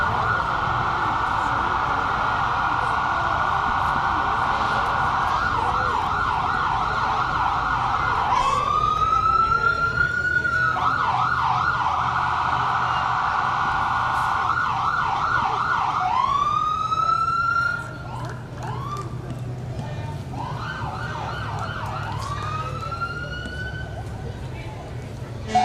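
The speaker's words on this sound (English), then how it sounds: "And here comes some of our sirens." Emergency vehicle sirens wail and yelp nearby in a town parade, cycling through rising and falling tones with sharp whoops, while a crowd murmurs in the background.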